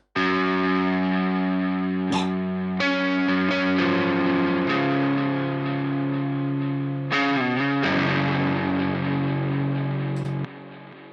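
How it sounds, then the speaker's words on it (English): A sustained, effects-heavy synth lead plays through a quarter-note ping-pong delay, echoes bouncing behind it, continuous and moderately loud until it cuts off near the end. "this is a ping pong delay in quarter notes"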